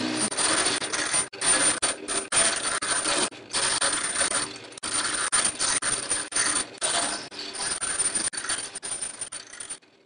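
A motorized Etch-a-Sketch driven by an Arduino runs continuously, giving a busy, near mechanical whir with rapid ticking and rattling gear noise, briefly pausing now and then.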